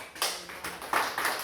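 A church congregation clapping hands in praise of Jesus, uneven bursts of claps swelling and fading over a short moment, moderately loud in a reverberant room with no talk.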